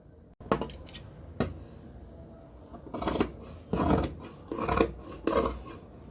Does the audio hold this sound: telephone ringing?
no